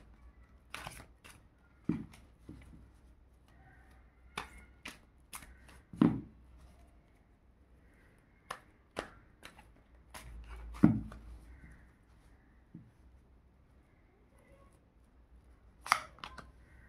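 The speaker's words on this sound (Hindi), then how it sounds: "तो निकालते हैं कार्ड्स" Tarot cards being shuffled and drawn, heard as sparse, quiet flicks and snaps of card stock at irregular intervals with soft rustling between them, close and otherwise quiet.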